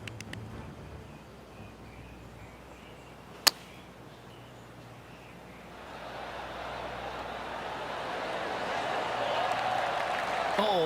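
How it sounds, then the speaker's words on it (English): Spectators clap politely at the PGA Tour Travelers Championship final day. A single sharp crack comes early, then a soft, diffuse patter of distant applause gradually swells. "That deserves a golf clap."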